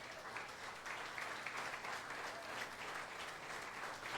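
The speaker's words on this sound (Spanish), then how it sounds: "Den un aplauso al Señor" Church congregation clapping together in a sustained, even wash of applause that holds steady throughout, heard somewhat distant and quiet.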